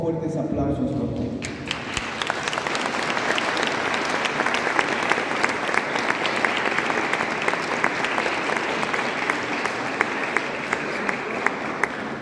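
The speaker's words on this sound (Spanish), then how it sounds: "Le recibimos con fuertes aplausos por todos." Loud, sustained applause from a concert audience welcoming a vocal ensemble at a Christmas concert in Tarata. A brief sound precedes it, then dense clapping continues with sharp individual claps standing out.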